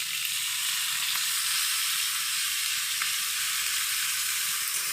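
Fish frying in oil with green chili and garlic makes a steady, even, close sizzle with no pauses and no voices.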